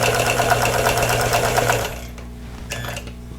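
A sewing machine quilts star-and-tulip place mats in a rapid, steady run of stitching for about two seconds, then stops, leaving a quieter hum and a few faint handling clicks.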